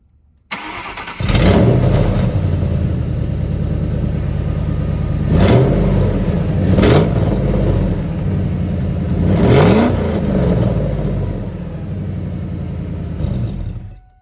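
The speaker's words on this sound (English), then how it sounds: "I've been excited to see what this exhaust sounds like as well." A car engine with a newly installed exhaust, slightly leaky between the mid pipe and X pipe, cranks and starts, then idles loudly up close between several sharp revs, with no talk.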